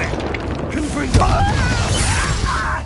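Confringo blasting spell cast in the game Hogwarts Legacy: a sudden burst with a crackling, whooshing tail and tonal magical shimmer, set among steady game ambience.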